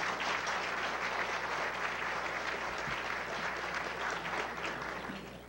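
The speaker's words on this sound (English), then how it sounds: "Now you can applaud." A luncheon audience at the National Press Club applauds steadily for several seconds, a dense even wash of clapping that tapers off at the end, with no talk over it.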